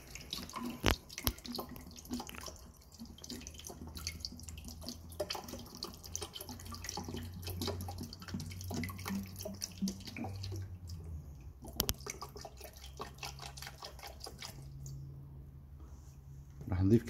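Water poured into the tank of a center of pressure apparatus during a lab experiment, a soft steady running trickle that continues for most of the stretch, with a voice talking over it.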